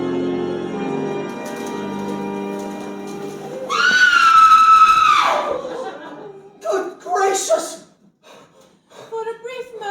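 A distraught girl lets out a loud, piercing scream in an audio drama, a sustained high shriek of about a second and a half that breaks off abruptly. Voices and other sounds come before it, and a few short sounds follow in the quiet.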